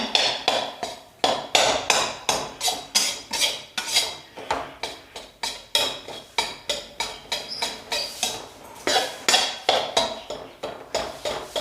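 A metal spoon stirs gram flour roasting in ghee in a pan, scraping and clinking in a fast, even rhythm of close strokes that runs throughout.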